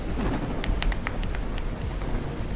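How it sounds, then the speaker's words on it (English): Rain falls outdoors in a garden, a dense, steady hiss of drops with a few sharper, nearby patters and no voices. "It's raining."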